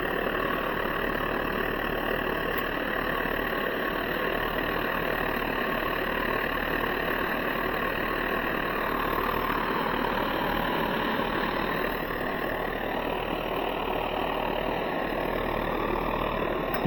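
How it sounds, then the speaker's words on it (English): Old Optimus 80 white gas camping stove burning on Coleman fuel, a steady roaring hiss that holds constant and close throughout without pause. "I just love the sound of these old stoves."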